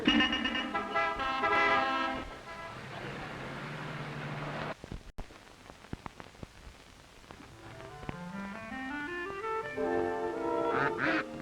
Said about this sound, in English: before one of these ducks lays an egg